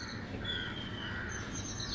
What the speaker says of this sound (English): I am now hearing the sound of the bird.